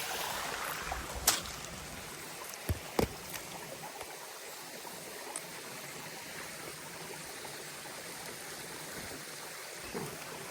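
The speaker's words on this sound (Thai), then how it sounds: "น้ำตกตรงนี้ น้ำตกในป่าแห่งนี้ สดชื่นจริง ๆ" A forest waterfall stream runs over rocks in a steady, close, full rushing wash, broken by a few sharp clicks and knocks, with no one talking.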